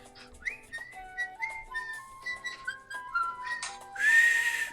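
A person whistling a short tune in a run of clear pitched notes that rise and fall, close and fairly loud, ending in a breathy burst of noise.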